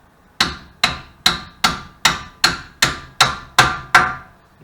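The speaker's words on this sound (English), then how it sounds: "Give it a gentle tap out." Ten evenly spaced metallic hammer taps ring out on a seized front suspension bolt of a first-generation Mazda MX-5 Miata. Each strike is sharp and close, with a short ringing decay, and no one talks.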